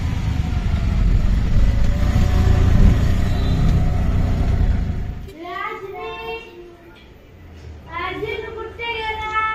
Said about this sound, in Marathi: तर सेक्टर 25 साठी आम्ही रिक्षा पकडतो